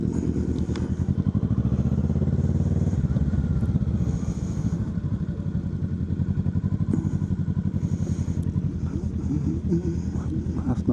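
Motorcycles rumble past at a busy roadside biker stop, a continuous close engine drone with clattering and swelling passes throughout.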